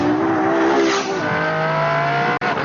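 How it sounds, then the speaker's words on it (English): Ferrari LaFerrari V12 exhaust revving loud and close, a sustained high engine note that climbs and then falls, cut by a brief sharp dropout near the end. "So this is the exhaust power"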